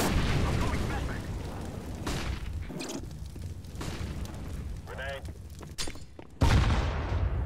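Rapid bursts of gunfire in a first-person shooter crackle throughout, with a heavier blast near the end, under steady talking.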